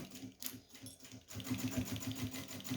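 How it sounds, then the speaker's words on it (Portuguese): A sewing machine with a teflon presser foot backstitches on plastic, its motor whirring in short, even pulses that grow louder and steadier partway through. "Aumentei o ponto, tá? Ainda tá com um pezinho de teflon. Vou dar um retrocesso aqui."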